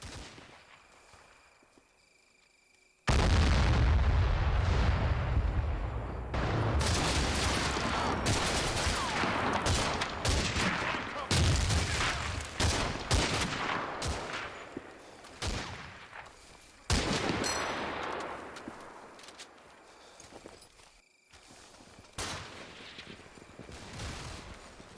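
Explosions and bursts of gunfire ring out as a bunker is destroyed in the Combat Mission: Fortress Italy war game, loud, dense and continuous, with heavy low booms and rapid shots overlapping for about twenty seconds after a quiet start.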